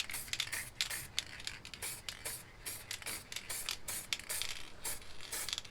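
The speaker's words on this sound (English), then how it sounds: "when you spray the paint here" Red paint hissing from a spray paint can in short, repeated bursts, fairly close and steady, with brief gaps between sprays as it is applied to the edges of glossy paper or canvas.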